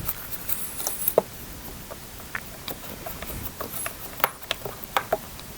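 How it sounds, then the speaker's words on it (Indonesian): Rain falls in scattered, irregular pattering taps with sharper drops standing out over a soft hiss. No voices are heard. "sekarang hujan lagi sob"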